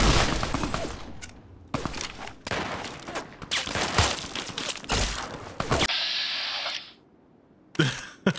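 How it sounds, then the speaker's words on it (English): Heavy shotgun blasts in modded Fallout 3 come in a rapid, loud cluster of booming shots, then a sustained hiss and one more close blast near the end. "that guy's got a huge shotgun"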